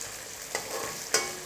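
Fish frying in a hot pan of oil, with a steady sizzle and two brief stirring scrapes as the pieces are gently turned over.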